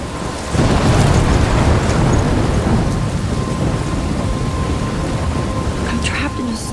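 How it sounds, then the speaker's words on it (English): Thunderstorm in the video game Life is Strange, with steady loud rain and rolling thunder rumbling throughout, and a faint voice murmuring underneath. "I'm trapped in a storm?"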